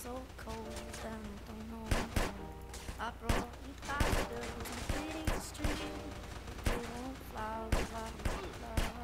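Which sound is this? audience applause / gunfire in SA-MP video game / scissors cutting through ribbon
gunfire in SA-MP video game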